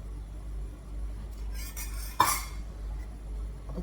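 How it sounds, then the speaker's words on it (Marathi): A tava griddle is set down on a kitchen stove to heat, giving a single sharp metallic clunk midway through, with only a low steady hum before and after. "तवा गरम करायला ठेवलेला आहे."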